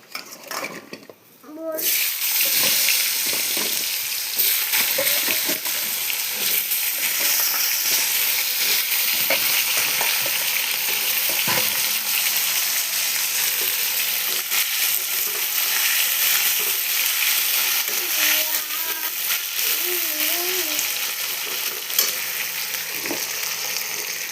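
Potatoes and vegetables hit tempered oil in a pan and fry with a loud, steady sizzle that runs nearly the whole time, with faint stirring and a few pot clinks in the mix.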